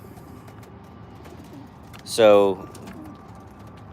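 A racing pigeon in a loft gives a single short, throaty coo, close and clear against a low steady background hum, with someone speaking around it.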